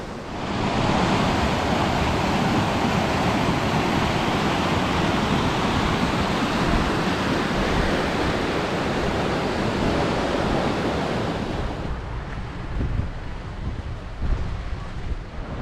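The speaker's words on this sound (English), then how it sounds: "this is the River Tromie flowing off into the River Spey" The River Tromie pouring into the River Spey in the Scottish Highlands near Kingussie, a steady, loud broadband rush of flowing water that continues without a break, dropping somewhat in level near the end.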